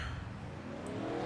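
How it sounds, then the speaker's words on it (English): Race cars in a NASCAR-style racing video game roll out of pit road at Bristol, a steady low engine drone, moderately loud and continuous over a short stretch with no voices. "Cars rolling"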